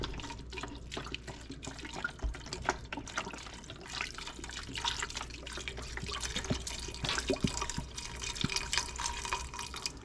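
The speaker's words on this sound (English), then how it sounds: "I put my famous chicken broth in here." Chicken broth poured into a pot of cabbage soup, a steady liquid splashing and trickling that runs continuously and fairly close, with small drips throughout and no talking.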